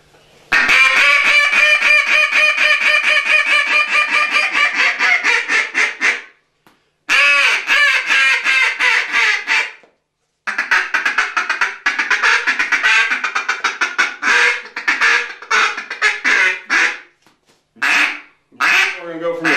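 A single-reed duck call is blown up close in loud, rapid runs of raspy quacks, with short gaps between sequences and some feeding chuckle-like bursts near the end.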